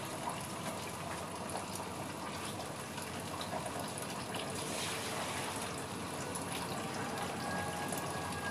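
Water pours and gushes steadily into a hydroponic water spinach basket container as the old water is changed, a continuous close liquid wash with no pauses.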